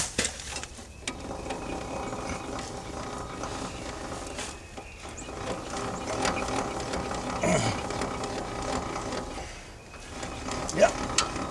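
A hand crank turning a mechanism on a Toyota Tundra, giving intermittent ratcheting, clicking and grinding noises close by with pauses between turns, and a voice speaking briefly in places.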